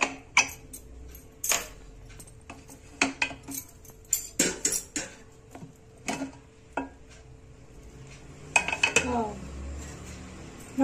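A pressure cooker of Malnad-style vegetable pulao is opened with a scattered series of sharp metallic clinks, clacks and lid rattles. They sound close and distinct against a quiet kitchen background.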